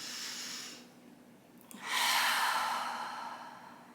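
One deep conscious breath taken in a quiet room: a soft inhale, a brief pause, then a long, loud sighing exhale, close to the listener.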